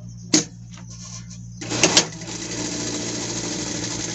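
A sewing machine stitches a seam on a pet skirt, with two short motor bursts early on and then a steady, continuous whirring run at moderate level.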